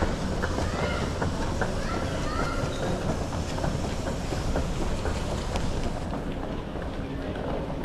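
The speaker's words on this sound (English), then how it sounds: "So now we're taking train to rental car center." Steady rumble and rattle of a moving airport train to the rental car center in Tampa, Florida, with faint rhythmic clicks and light background noise throughout.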